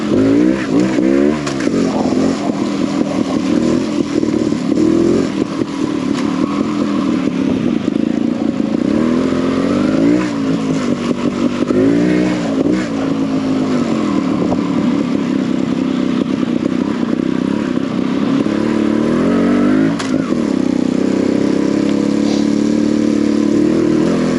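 An enduro motorcycle engine revs hard and steadily in a time trial, close and loud throughout. The pitch rises and falls with throttle changes over a constant rough drone.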